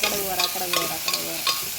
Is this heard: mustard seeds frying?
yes